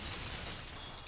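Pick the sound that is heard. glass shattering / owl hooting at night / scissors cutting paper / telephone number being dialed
glass shattering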